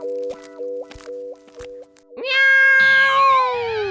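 A cartoon cat in a 3D animated Motu Patlu kids' episode meows, with a few short wavering tonal cries followed by a louder, sustained, bending yowl that rings out clearly with no talking over it.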